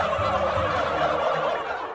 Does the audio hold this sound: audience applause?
no